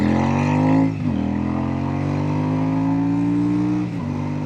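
A Royal Enfield Super Meteor motorcycle engine revs loud and close in a sustained throaty drone, rising in pitch with two brief dips as the throttle is blipped and reopened.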